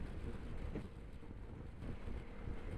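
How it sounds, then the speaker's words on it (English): Steady, loud wind roar buffets the microphone while riding a motorbike, a dense low rumble filling the whole stretch with slight surges and no talking. "There's a big difference in the wind as well on this bike compared to the old bike."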